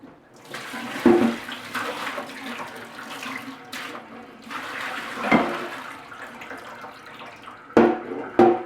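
Salted codfish being rinsed under running tap water: a steady, close splash of flowing water with a few louder knocks and clatters, and no talking.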